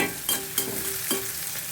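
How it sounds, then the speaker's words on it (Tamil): Onions sautéing in a pan for a mushroom gravy, a soft steady sizzle broken by three brief stirring scrapes. "வெங்காயம் தக்காளி வதங்கி வரணும் இல்லையா?"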